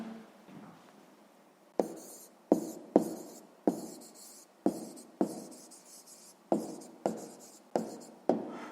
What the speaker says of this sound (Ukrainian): І записуємо відповідь.